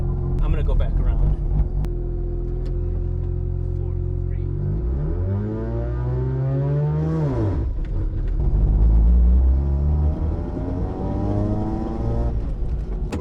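A rotary-engine race car in poor condition revs and accelerates nearby, its engine note rising in a steady sweep, then dropping and rising again, with a low rumble throughout.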